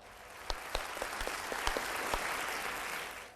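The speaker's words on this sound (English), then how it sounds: "Claps for our group A." A classroom group applauding for another group: faint, sparse claps at first, thickening into soft continuous applause over a few seconds.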